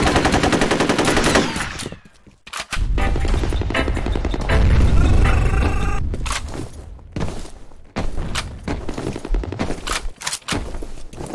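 Bursts of automatic gunfire and single shots from combat in the video game F.E.A.R., loud and close, coming in rapid volleys with short gaps and thuds between them.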